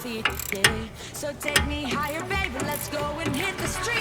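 A wrench loosening a tie rod fitting on a BMW 1 or 2 Series, with clicky ratcheting and metallic clanks in short uneven bursts close by, while someone speaks over the work.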